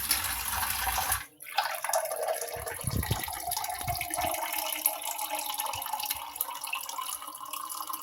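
Water pours steadily into a pot for green tea, a continuous splashing stream that starts after a brief pause and runs on, close and moderately loud.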